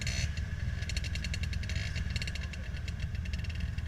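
An Arctic Cat snowmobile engine running rough at a winter racing event: a loud, steady motor drone with rapid, stuttering high-pitched pulses throughout, and no talking.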